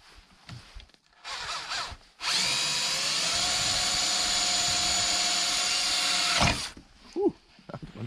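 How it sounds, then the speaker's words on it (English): A power drill whirs loudly for about four seconds in one continuous burst, drilling into a tractor to install LED lights, with brief rustling and handling sounds before and after. "so I have to be careful drilling here"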